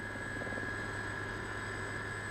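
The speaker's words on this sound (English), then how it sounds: "We flew to Saunders by Army Air Corps helicopter." An Army Air Corps helicopter flies over the Falkland Islands en route to Saunders Island, a steady droning rotor and engine hum with a sustained high whine, continuous and even throughout.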